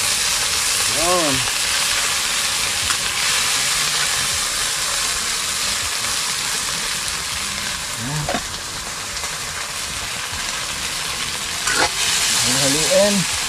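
Sardines frying in a pan, a steady loud sizzle running throughout, with occasional scraping stirs and faint voice-like tones in the background.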